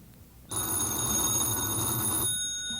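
A telephone bell rings continuously, loud and close, starting sharply after a brief quiet moment and cutting off just before the end.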